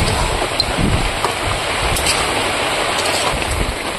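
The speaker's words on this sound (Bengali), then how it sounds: "এবার ভেজে রাখা আলুগুলো দিয়ে দেবো কষাই মধ্যে, আর কিছু সময় কষিয়ে নেবো।" Fried potatoes and turkey meat sizzle steadily while being stir-fried in a pan, a loud, even crackling hiss with no talking.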